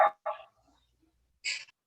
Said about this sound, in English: Who brought the dog?